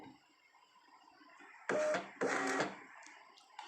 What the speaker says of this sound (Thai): ตัวนี้เอาอยู่แน่นอนเดี๋ยวลองพิมพ์ดู